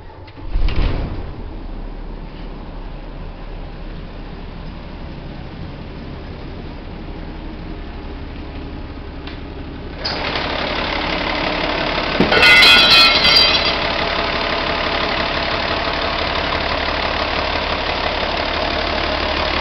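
The diesel engine of a 1985 Hino bus camper cranks and catches with a short burst, then settles into a steady, close idle. Around ten seconds in the idle rises to a louder, rougher run that keeps going, and there is a brief clatter partway through.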